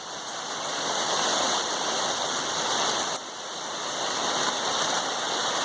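Heavy rain pours down steadily during a sunny late-July thunderstorm, a dense, continuous hiss of drops that stays loud and close throughout, with a slight dip midway before building again, and no voices are heard.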